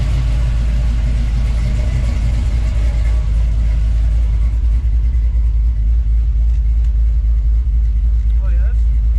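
A truck engine idles steadily up close: a low, continuous rumble from an OBS Ford pickup swapped with a 6.0 V8 that seems to need a tune, holding an even drone with no revving throughout.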